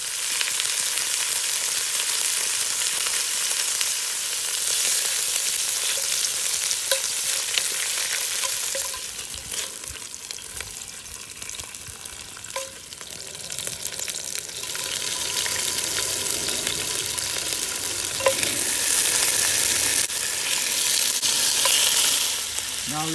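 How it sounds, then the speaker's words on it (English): Impala meat browning in batches in a pot over a wood fire for a red wine potjie: a steady, loud, close sizzle and spatter that runs throughout, with faint stirring clicks and no voices. "we want to fry the meat"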